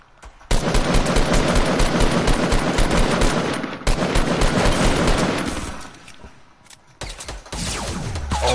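Video game gunfire in long rapid automatic bursts, loud and close, with a brief lull before the shooting resumes; no voices.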